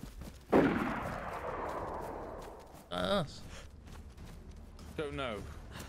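A single loud gunshot cracks out in the DayZ video game, followed by a long echoing decay that rolls away into the distance, with voices talking afterwards.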